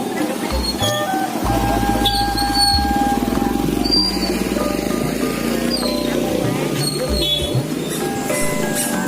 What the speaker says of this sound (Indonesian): Nah itu ada yang bunyi cuit-cuit, itu suara sepatu si Ade ya sahabat.